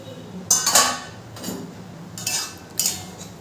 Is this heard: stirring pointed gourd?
yes